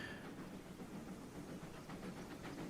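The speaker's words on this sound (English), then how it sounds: "It does kind of sound like there's another train coming though." Approaching steam train in a Train Simulator seaside railway scene at Dawlish: a steady, broadband rumbling hiss at moderate level, continuous and without distinct beats, as if a train is rolling somewhere not far off.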